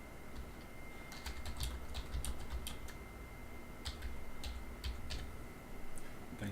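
Fingers tap on a computer keyboard in quick irregular clusters of soft clicks over a steady faint room hum, fairly quiet and without speech.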